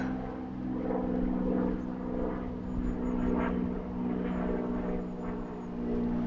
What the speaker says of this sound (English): Lovely sound of the Merlin engine.